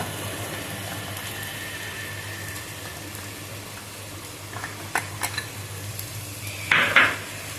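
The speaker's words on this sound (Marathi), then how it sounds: "आता हे मिक्स करून घ्यायचं तेल सुटेपर्यंत" Pav bhaji with turmeric, garam masala and pav bhaji masala stirred on a tawa, with a low steady background hiss, soft scrapes and a few sharp metallic clinks of the spoon toward the end.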